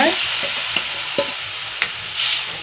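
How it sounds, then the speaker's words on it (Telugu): Yogurt mixed with flour hits hot oil for a Telugu amaranth-leaf and boondi curd rasam, giving a steady loud sizzle with a few sharp stirring clinks, no talk. "ఇప్పుడు ఇందులో ఈ మనం కలిపి పెట్టిన పెరుగు, పిండితో కలిపి పెట్టిన పెరుగు నూనెలో వేసేయాలి."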